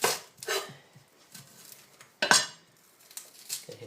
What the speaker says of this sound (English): we're going to use one red onion, which we're going to cut up